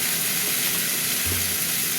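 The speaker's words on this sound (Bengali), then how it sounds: "এবার এইটাকে ভাজতে থাকবো, কিছুক্ষণ ভাজা ভাজা হবে, হতে থাক" Chopped tomatoes frying in a pan, a steady close sizzle with faint crackle, alone and unbroken for the full length.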